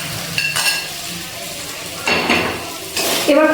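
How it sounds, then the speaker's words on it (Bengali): Fried potatoes and drumstick pieces (sajne data) sizzle in a spiced pan as they are stirred in, with scraping bursts of stirring near the start, middle and end over a steady sizzle, close up and fairly loud. "এবার এর মধ্যে ভেজে রাখা আলু আর সজনে ডাঁটাগুলো দিয়ে দিচ্ছি।"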